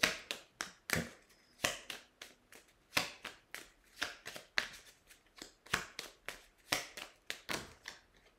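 Small oracle cards are shuffled nearby, giving irregular crisp slaps and taps, some in quick clusters and others spaced apart, in an otherwise quiet room.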